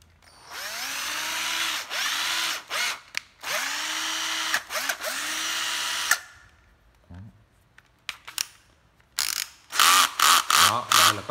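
A cordless battery drill runs in drill mode, with loud whirring bursts several seconds long broken by short stops, then quick on-off triggers near the end.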